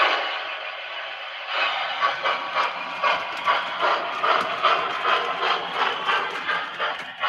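A model train locomotive runs with its chuff effect powered up, giving a steady, rhythmic series of soft hissing chuffs repeating several times a second at moderate level with no talk.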